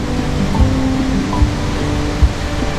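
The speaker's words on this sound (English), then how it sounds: "Dunhinda Falls, one of Sri Lanka's most famous waterfalls, plunges 64 meters in a powerful white stream surrounded by lush forest." Dunhinda Falls in Sri Lanka, a 64-metre plunge into lush forest, gives a steady, broad, rushing roar of falling water, continuous and fairly loud, with a few low thumps.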